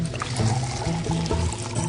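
Water is drawn from a well and poured out in a steady, close stream, a continuous splashing pour that runs the whole short stretch with a low, rich gurgle beneath it.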